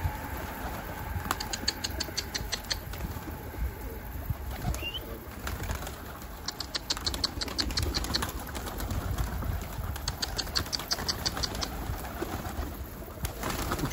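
Pigeons coo and flutter their wings at close range amid a steady background hum, with rapid wingbeat bursts recurring over the scene.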